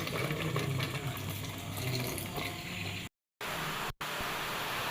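Water is poured onto mashed boiled taro in a cooking pot while making taro tenga, a steady gushing pour that runs for about three seconds before brief breaks and a final stretch.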